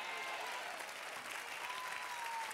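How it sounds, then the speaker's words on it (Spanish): Applause from a church congregation during a pastor's Purim sermon, a dense steady wash of clapping holding evenly for the whole stretch with no talk over it. "déle otro aplauso, Señor"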